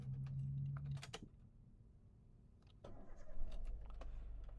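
Daihatsu Xenia Xi Sporty 1.3 manual from 2011 starting up: a brief starter crank near one second, then the engine settling into a steady low idle with a rise in rumble toward the end, close and alone.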